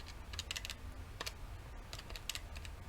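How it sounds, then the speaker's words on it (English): Numbers are tapped out on a calculator's keys: a quick series of light, close plastic clicks in short bursts, alone in a quiet room. "Let's type that in the calculator."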